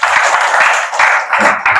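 A church congregation at a Pentecostal Sunday service claps together in sustained, dense applause, loud and close, with brief pauses in the clapping.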